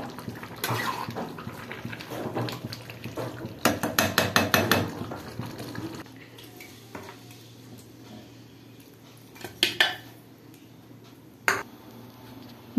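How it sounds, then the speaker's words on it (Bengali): Cooked mutton tipped from a pan into a pressure cooker, heard as bursts of rapid metallic scraping and knocking, a dense flurry in the middle and a few later sharp clanks, close with no talk. "এবার এটাকে আমি কুকারের মধ্যে ঢেলে দেবো।"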